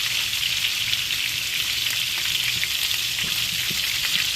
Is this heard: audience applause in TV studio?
no